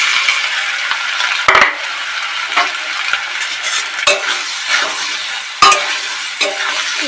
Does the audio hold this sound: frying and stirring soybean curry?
yes